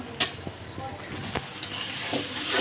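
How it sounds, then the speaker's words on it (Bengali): Sour yogurt goes into hot oil for a raw jackfruit korma, giving a soft, steady frying sizzle with a few sharp clinks and stirring knocks, all faint and close. "তেলের মধ্যেই দইটা দিয়ে দিল এই যে দেখেন টক দই দিয়ে দিবেন"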